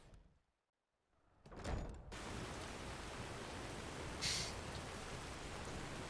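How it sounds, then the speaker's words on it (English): Outdoor rain in the fantasy game Enderal: after a short silence and a soft thud, a dense, even hiss of falling rain settles in and holds steadily, with a brief brighter splash partway through. "You're standing outside under the rain."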